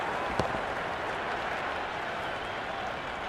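Stadium crowd applause and cheering in the Cricket 26 video game during a Pakistan versus Australia T20 match, a steady dense roar of clapping that holds loud throughout, with one brief sharper clap near the start.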